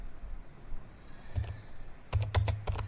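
Keys clatter on a computer keyboard as a network reset command is typed on a Windows 11 PC, a short burst of tapping then a quicker run of close, crisp keystrokes.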